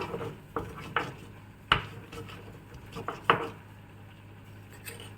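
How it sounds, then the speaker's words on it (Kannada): A mixture for a traditional Havyaka raw banana dish is pounded into a paste: half a dozen separate, fairly faint thuds at an uneven pace, with quiet kitchen rustling between strikes. "ಮಿಕ್ಸ್ ಮಾಡಿಕೊಂಡು ಮತ್ತೆ ಕುಟ್ಕೋಬೇಕು"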